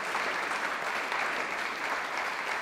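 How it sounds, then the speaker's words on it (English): Audience applause for a squash champion at the Scottish Squash Open finals, a steady, fairly distant clapping that holds evenly throughout. "A big round of applause, please, for your champion"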